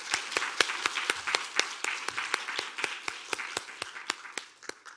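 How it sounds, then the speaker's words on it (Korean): A prayer-school congregation at a church claps together in a steady, unified rhythm, about three sharp claps per second, loud and close with no talking. "다 같이 크게 박수하겠습니다."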